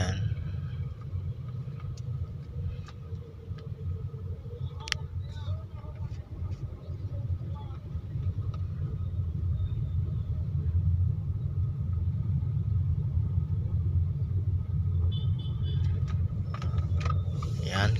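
Town road traffic makes a continuous low rumble of vehicle engines that swells slightly toward the end, with faint scattered clicks and knocks and no clear voices.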